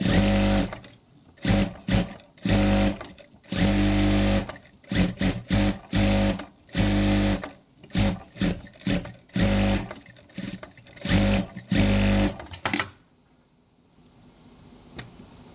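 Sewing machine stitching fabric around in circles, loud bursts of rapid mechanical whirring in short and longer runs separated by brief pauses, close up, ending in quiet with no talking.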